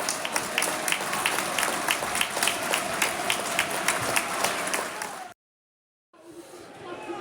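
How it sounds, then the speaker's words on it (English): Football crowd at Millwall applauds a substituted player during the match against Plymouth Argyle, a broad sustained ripple of clapping with a commentator talking over it, cutting out briefly near the end. "good applause for him, as you can hear."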